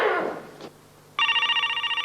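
After a short burst of noise, a telephone bell starts ringing, a fast, steady electronic trill that continues loud and close until the end.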